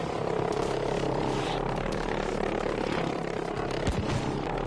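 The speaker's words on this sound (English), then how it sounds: "I think that was a V1 rocket. Or Doodlebug bomb." Buzzing pulse-jet drone of a V1 flying bomb in Battlefield V, a steady loud droning rumble that holds throughout without pause, slightly rough and throbbing.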